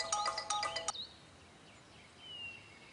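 A mobile phone rings with a bright, repeating electronic ringtone for about a second, loud and close, then cuts off into quiet room tone with a faint tone trailing away.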